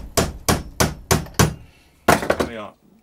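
Five evenly spaced hammer blows on a wooden Dadant beehive frame held in a vise, then a quick cluster of lighter taps, sharp and close by.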